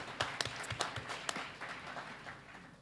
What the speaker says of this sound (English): Just for that, he needs an applaud.